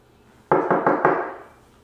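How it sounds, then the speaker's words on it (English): Knuckles rap on wood four times in a quick, slightly uneven burst. The knocks are close, loud and hollow, and each fades quickly into silence. "Knock on wood."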